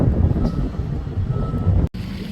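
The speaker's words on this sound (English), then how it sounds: "There's a utility truck right there." A utility truck and excavators work on road construction at a washed-out causeway, with a continuous rumble of heavy engines close by and a faint reversing beep, broken by a sudden brief cutout.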